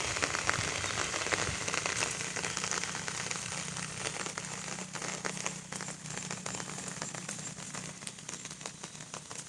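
Rain falls steadily where sheep are grazing outdoors, a faint, even hiss of drops with scattered crackly patter throughout and no talking.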